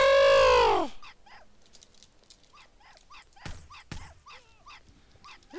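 Guard dog in Hitman: Blood Money, one loud drawn-out yelp at the start followed by a run of short, quieter barks and whimpers repeating steadily, with a couple of sharp thumps in between.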